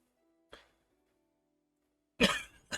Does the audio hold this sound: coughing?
yes